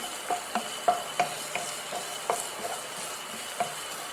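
Garlic, onion and ginger sauté in a pan, a steady soft sizzle with regular light clinks and scrapes of a utensil stirring against the metal, close by and fairly quiet.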